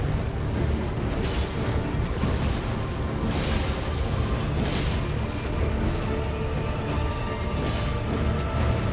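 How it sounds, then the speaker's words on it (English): An explosion in the video game Elden Ring rumbles as a loud, sustained roaring blast with rolling bursts swelling and fading over several seconds, dense and continuous with no talk. "That's an explosion."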